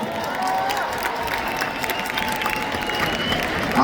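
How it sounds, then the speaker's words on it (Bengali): Applause and cheering from an audience for Dev, actor-producer of the Bengali film Raghu Dakat, at a promotional event; steady crowd clapping and cheers fill the clip, with some voices mixed in. "এটা দেবের জন্য জোরে হাততালি চাইব সবার কাছ থেকে"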